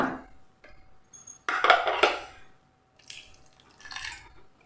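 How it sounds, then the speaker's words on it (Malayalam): Warm water is poured in short splashing bursts onto ground raw rice in a grinder jar, with a couple of separate pours and brief pauses between them, close and fairly loud. "ഇനി ഇതിലേക്ക് നമ്മൾ ചെറിയ ചൂടുവെള്ളം ഒരുപാട് ഒഴിക്കണ്ട"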